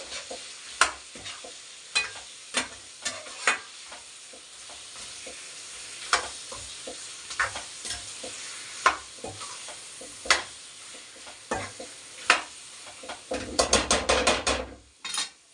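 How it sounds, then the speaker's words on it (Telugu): Tomato puree being stirred into chicken curry in a hot pan, with a soft constant sizzle under repeated scrapes and taps of a spoon against the pan, ending in a quick burst of rapid clattering strokes. "ఇప్పుడు ఇదంతా ఈ టమోటో ప్యూరీ మొత్తం ఇదంతా బాగా మిక్స్ అయ్యేలాగా కలుపుకొనేసి"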